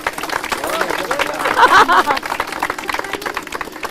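Wedding guests break into applause, heard as a dense patter of clapping mixed with crowd chatter and a voice calling out over it, peaking briefly in the middle.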